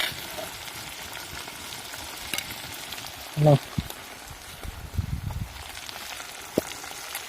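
Chilies and other ingredients are stir-fried in a hot pan over high heat, making a steady, low sizzling hiss with a few light clinks and a brief voice.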